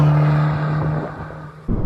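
A Fiat 500 Abarth Essesse engine pulls under acceleration with a steady, droning tone that fades slightly before a fresh surge near the end, close and without talk.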